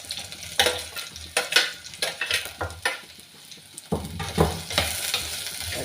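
Okra curry sautés in a smoking clay pot, a loud continuous sizzle broken by repeated scraping stirs and clatters of the spoon against the pot, close and busy throughout.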